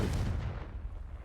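A deep, booming blast from the Confringo explosive spell in Hogwarts Legacy, loud at the start and rumbling away over about a second.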